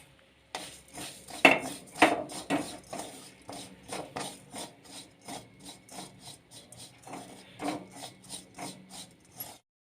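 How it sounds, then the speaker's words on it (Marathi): A spoon scrapes and clinks repeatedly against a bowl, stirring sesame seeds with food colouring in a steady, close rhythm of gritty rubbing strokes, without any talking. "मी याच्यामध्ये आणि दोन चमचे तीळ घालत आहे"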